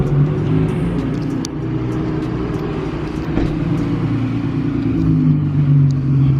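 A Nissan 350z with its muffler deleted idles at a smog check station, a loud, steady low exhaust rumble that holds even throughout with no revving.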